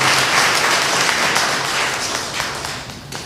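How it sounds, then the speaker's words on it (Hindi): A church congregation breaks into loud, sustained applause to thank the priest after a sermon, dense clapping from many hands that holds steady and fades slightly toward the end. "आइए हम फादर जी को जोरदार ताली बजाकर धन्यवाद"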